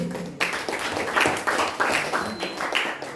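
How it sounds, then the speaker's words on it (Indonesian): A small group in a classroom gives applause for group 3, steady moderate clapping from several people over a few seconds with no talk. "Tepuk tangan untuk kelompok 3"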